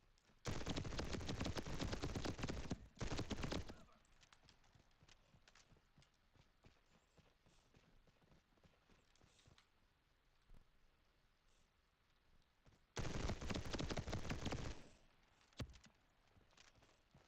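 Video game gunfire in Reaper Actual: two loud bursts of rapid shots, one early and one late, with sparse quieter pops and movement noise between them.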